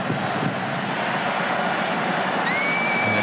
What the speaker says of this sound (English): the fans of South Korea, making most of the noise in the stands with their clappers